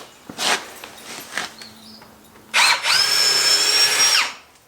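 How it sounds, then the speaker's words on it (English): A power drill whines steadily at close range for about two seconds, drilling through wood into concrete, following a few short bursts of bumping and handling noise. "this will get through the wood. But then once it gets through the wood, it'll drill into the concrete"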